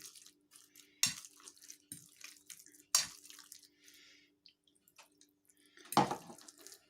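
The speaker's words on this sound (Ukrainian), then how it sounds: "Також до цього фаршу на чебуреки нам потрібно додати трішки води" Water trickles and splashes in a few short bursts into a bowl of minced-meat filling for chebureki, close up and fairly quiet, with dull clinks between pours.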